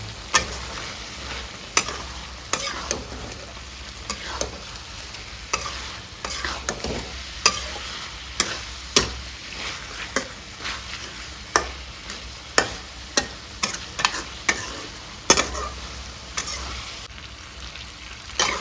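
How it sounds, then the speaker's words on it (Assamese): Continuous sizzle of pork curry with meat masala frying in a pan, punctuated by frequent sharp scrapes and clacks of a spatula stirring, loud and close. "একদম ধুনীয়াকৈ ভাজিম এইখিনি"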